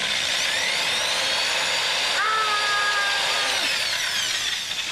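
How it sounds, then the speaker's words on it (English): A power drill whines steadily and loudly, its pitch dipping as the bit bites into a wooden skateboard deck, running continuously with no pause. "you line them up and you drill them straight down"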